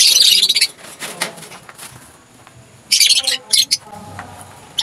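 Violet-winged pet birds chirp and flutter nearby in sharp, bright bursts, with quieter stretches between the flurries.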